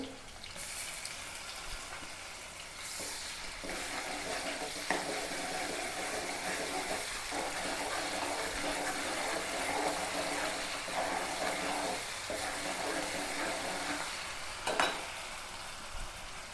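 Onion and green chillies fry with ginger garlic paste in a pot for homemade mutton curry, a steady low sizzle with occasional stirring scrapes and brief clatters throughout.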